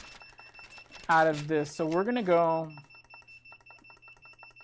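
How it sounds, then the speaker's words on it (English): A heat press beeps repeatedly as its timer is set, small faint electronic beeps running under and after a person talking. "sorry for the excessive beeping."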